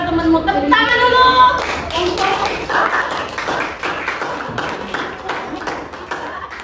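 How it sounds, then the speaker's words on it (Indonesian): A classroom of students claps together in a burst of applause, starting with a few scattered claps that quickly swell into dense, lively clapping before slowly thinning out. "Tepuk tangan dulu."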